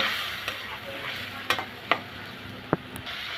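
Masala with dried molai fish is stir-fried in a pan, giving a steady low frying crackle broken by several sharp clacks of a spoon against the pan, with no talking.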